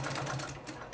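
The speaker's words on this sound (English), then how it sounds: "I'm gonna sew them all" A sewing machine stitching apron straps runs briefly and faintly, its rapid mechanical stitching buzz steady throughout the short moment.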